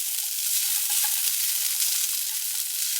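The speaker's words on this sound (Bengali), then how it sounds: "চিকেনটাকে আর বয়েল টয়েল করিনি, অল্প ছোট ছোট করে কেটে নিয়ে পেঁয়াজ দিয়ে জাস্ট ফ্রাই করে নিচ্ছি" Small chicken pieces fry with onion in a pan, giving a steady, even sizzle with a few faint stirring clinks, close by and without talk.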